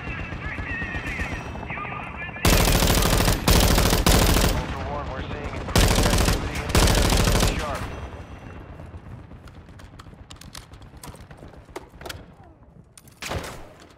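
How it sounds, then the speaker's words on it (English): Bursts of rapid automatic gunfire in Call of Duty DMZ, loud sustained volleys separated by quieter stretches of game ambience and scattered distant shots. "he's getting shot at"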